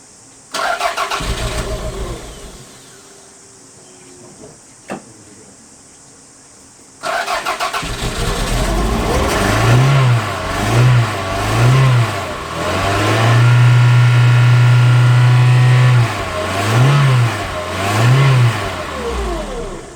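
A Toyota MR2 with a stalling fault cranks briefly, goes quiet, then cranks again and catches, settling into a loud, near idle broken by several short rhythmic revs and one longer held rev.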